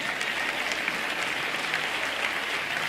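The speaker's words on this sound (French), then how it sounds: "applaudissements pour ça" A church congregation applauds together, steady dense clapping that holds at an even level throughout with no voices standing out.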